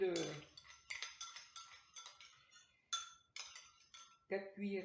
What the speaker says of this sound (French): je vais mettre un petit peu d'eau dans mon bol. Voilà, 3, 4, en gros 4 cuillerées